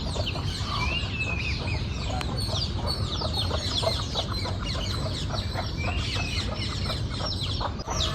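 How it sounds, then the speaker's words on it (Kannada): Assorted birds call and chirp continuously around a farm in the morning, with clucking chickens prominent among them and a steady outdoor ambience throughout. "ಎಷ್ಟು ಥರ ಪಕ್ಷಿಗಳು ಕೂಗ್ತಿದ್ದಾವೆ."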